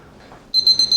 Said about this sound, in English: that is my timer telling me fetch the bread